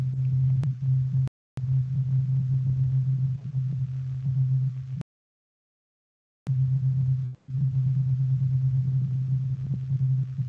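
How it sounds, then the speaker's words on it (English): Two steady sine tones close in pitch sound together and beat against each other, the slow pulsing speeding up and then slowing, with two short breaks and a longer silent gap in the middle; no voice. "you can hear it beat faster and then start to get slower."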